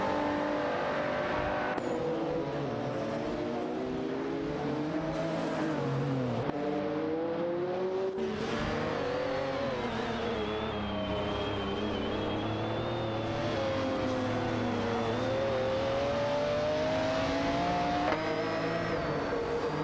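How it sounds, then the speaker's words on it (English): AI-driven race cars in a racing video game roar continuously, engines whining and shifting pitch as they accelerate and pass, loud and steady throughout with no talk. "We've got some exciting AI race car action happening"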